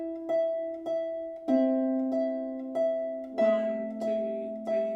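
Harp improvisation in three beats per bar, plucked chords ringing out in a slow, even lilting pulse, clear and close with no talk.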